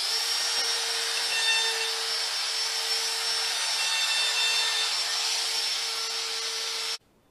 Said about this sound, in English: this is an 1/8-inch quarter cable router bit in a DeWalt compact router.